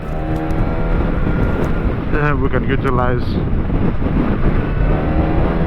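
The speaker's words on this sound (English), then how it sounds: "It's very windy." Steady wind rumbles and buffets the microphone throughout outside the Athens Moto Expo 2024, with a voice speaking briefly partway through.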